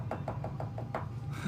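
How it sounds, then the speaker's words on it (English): A cured UV resin letter knocks on a surface, six light, evenly spaced taps in a quick rhythm, close and fairly soft, with no talking. "Oh, and my letter is just about dry. You guys hear it knocking back at me?"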